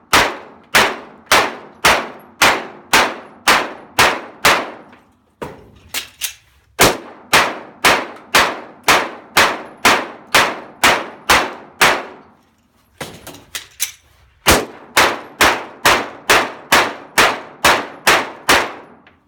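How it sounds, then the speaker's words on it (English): Handgun firing 30 rounds at targets with two magazine reloads: rapid, evenly spaced loud sharp shots in three strings, each broken by a short pause of reload clatter. "let's try one gun with 2 reloads for the same 30 rounds."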